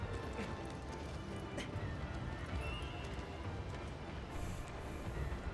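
Horse hooves gallop in a continuous rapid clip-clop in the Shadow of the Colossus video game, loud and close amid dense game noise and rumble, with an occasional whinny.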